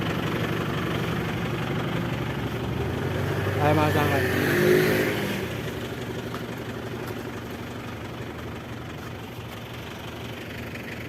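Van engine idling in a garage after being started, a steady low rumble with a brief rise in revs partway through, while someone talks over it.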